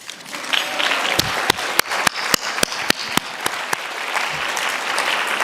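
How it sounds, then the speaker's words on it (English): An audience at a climate leadership gala applauds in a steady, sustained wash of clapping, with several sharp, close individual claps standing out above the crowd. "We should really give a round of applause to ourselves because I think we're all awesome."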